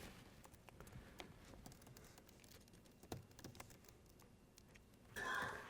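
Faint typing on a computer keyboard, scattered light key clicks tapping at an uneven pace beneath a low background hiss, quiet and with no talking.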